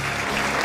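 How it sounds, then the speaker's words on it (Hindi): Applause for the Sialkot Chamber of Commerce fills a brief moment at a World Thalassemia Day 2016 event organised by Sundas Foundation in Sialkot, a steady, dense wash of clapping from a crowd. "भरपूर तालियाँ होनी चाहिए सियालकोट चैम्बर ऑफ कॉमर्स के लिए स्पेशली।"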